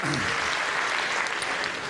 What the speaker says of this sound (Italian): ancora un grande applauso